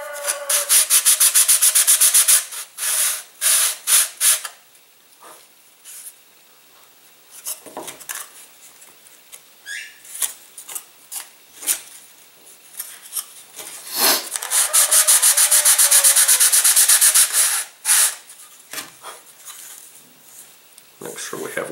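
A model aircraft part has a dihedral bevel sanded into it: loud bursts of scratchy sandpaper rubbing at the start and again mid-clip, separated by quieter handling and short sanding strokes.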